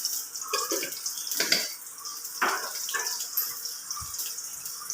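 Mustard seeds spluttering and popping in hot oil with onions for a buttermilk curry, irregular crackles and spits of varying loudness close by.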